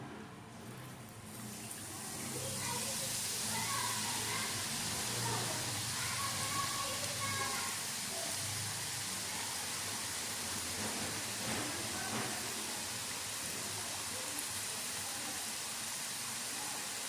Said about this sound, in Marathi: बुंदी पाडून घेऊयात आपण.